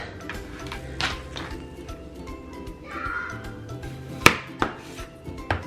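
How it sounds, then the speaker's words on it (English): A knife cuts through food on a cutting board for picadillo, sharp taps and thuds against the board spaced irregularly, one crisp louder chop standing out, with no speech. "what I like to do is I like to cut it in half, right down the center, and then cut each slice one more time down the center"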